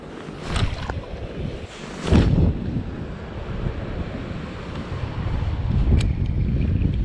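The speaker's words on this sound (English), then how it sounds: "Dang, the wind is coming up quick." Strong wind roaring across open water with waves splashing during halibut fishing from a boat, steady and loud, with a few sharper gusts and bursts throughout.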